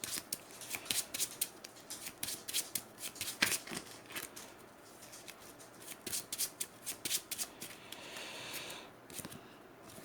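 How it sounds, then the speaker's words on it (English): Game cards for Marvel Champions being handled and one discarded at random from a hand: a steady run of crisp, close riffling snaps and slides with short pauses, no voices. "Okay, discarding a card at random."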